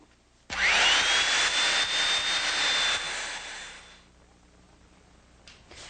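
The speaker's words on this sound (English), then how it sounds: "I'm going to start by running the belt sander at a diagonal" A belt sander roars up abruptly and grinds steadily with a high whine for a few seconds while sanding a wooden cutting board diagonally, then spins down and fades.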